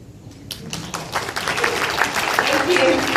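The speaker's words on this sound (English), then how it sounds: "Can you please get a round of applause?" Audience applause at a speech event in Penang, clapping that starts sparse and swells into steady, fuller applause over a few seconds.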